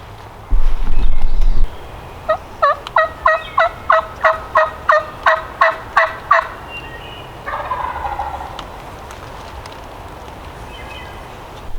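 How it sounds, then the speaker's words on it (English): Wild turkey gobbler on public land in Indiana: a burst of loud rapid staccato clucks, then a drawn-out gobble rolling down from a hill, moderately distant and with no talk over it. "a bird just gobbled right up there on that hill"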